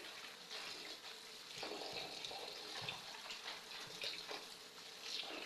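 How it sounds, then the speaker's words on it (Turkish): Wild kızılca herbs are washed in a generous basin of water, with continuous sloshing, splashing and trickling as the greens are swished about, close by and fairly soft, without speech. "Bu şekilde bol suda bir defa yıkıyorum."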